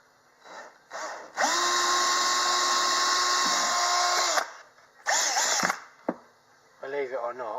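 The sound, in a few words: power drill drilling a pilot hole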